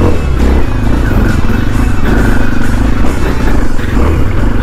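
Kawasaki motorcycle on an off-road test ride, a loud continuous engine drone with steady rumble and rattling clatter throughout, close up and with no speech.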